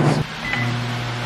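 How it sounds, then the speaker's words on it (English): Microwave oven running to melt chocolate with coconut oil, a steady close hum that starts after a brief click and continues unbroken with no voices. "Let's microwave this."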